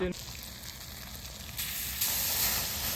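Kaul fry sizzling in a pan over an open fire, a steady hissing fry that swells louder partway through, continuous and close with no clear voices.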